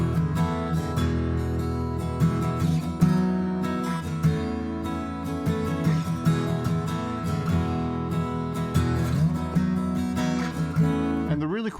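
Acoustic guitar strummed in a steady practice pattern with easy chord shapes, ringing continuously and fairly loud, with no talking over it.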